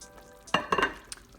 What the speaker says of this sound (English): I have my dumplings all balled up. Now we're gonna add them to our soup.